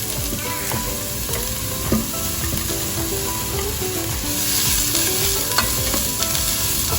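Chili frying in about two tablespoons of olive oil in a pan, a loud close sizzle and crackle that runs steadily, with occasional stirring scrapes and spatters and no voices.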